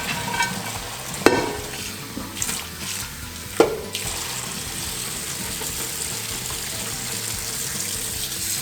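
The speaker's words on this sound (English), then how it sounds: "Now we'll just rinse them with cool water, stop the cooking." Cooked food in a kitchen sink being rinsed under cool tap water: a steady rushing, splashing stream with a couple of sharp clanks near the start, continuous and close.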